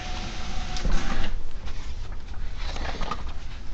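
HP PhotoSmart C4500 inkjet printer running a print job indoors, giving a steady mechanical whir and rattle with a few soft knocks and shuffling clicks, moderately loud and close, with no talking.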